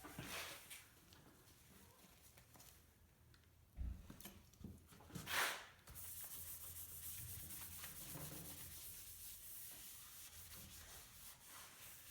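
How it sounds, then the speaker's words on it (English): A rag soaked in mineral spirits is wiped across a guitar body stained with artist oil paint, giving soft, faint rubbing strokes with a brief louder scuff midway. "Soaking the application rag with some mineral spirits and then wiping it across the surface helps to thin that color"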